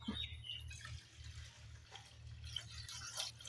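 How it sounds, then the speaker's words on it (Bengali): Water poured into a karai wok on a cooking stove, a faint, quiet trickle and splash over a low steady hum, heard close. "কড়াইতে এখন জল দিয়ে দিব"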